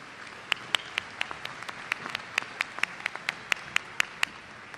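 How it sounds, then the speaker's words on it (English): A crowd applauding at a university commencement ceremony, with sharp individual claps standing out above a continuous patter of hands, steady and moderately loud. "Let's give them another round of applause."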